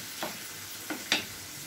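Onions frying in a pan for a prawn and tomato curry, a faint continuous sizzle broken by three light stirring taps.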